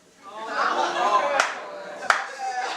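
At a comedy stand-up show, two sharp isolated claps ring out from the audience amid murmuring voices and laughter, the second clap crisper and louder.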